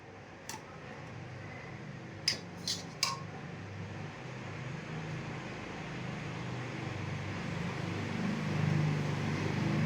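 A metal spoon presses ghee residue in a pot, making a few sharp, faint clinks against the vessel early on, then quiet kitchen background hum with no speech.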